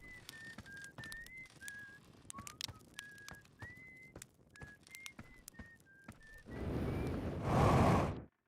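Esker, a character in Outer Wilds, whistles a wavering tune of short rising and falling notes, clear and alone, before a loud rushing burst swells up and cuts off at the end.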